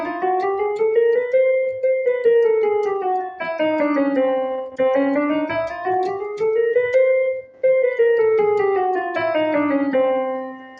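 A melodic instrument plays a chromatic scale, running smoothly up and down in small stepwise notes several times, loud and alone with no talk.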